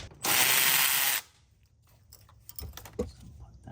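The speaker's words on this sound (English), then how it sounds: "I'm going to remove this e-brake bolt" A ratchet works on the e-brake bolt of a 1991-1996 Honda NSX with a 5-speed manual, giving one loud burst of rapid clicking followed by softer clicks and handling taps, close by.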